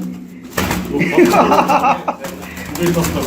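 A fancy pigeon coos softly nearby in low, rolling tones, mixed with background noise and a faint voice.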